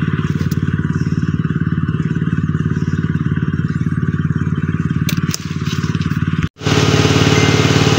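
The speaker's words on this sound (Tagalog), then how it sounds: "makapagsimula ulit tayo sa pag-grass cutter" A gasoline grass cutter engine runs steadily and loudly close by, a constant buzzing drone that dips briefly near the end before resuming at full strength.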